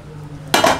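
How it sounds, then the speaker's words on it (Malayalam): A pressure cooker of chicken curry is opened after its whistle is removed, giving a sudden metallic clank and rush of hissing noise, close and short after near silence. "ഊരി എടുത്ത് മാറ്റുക, കുക്കർ തുറന്ന് നോക്കാം."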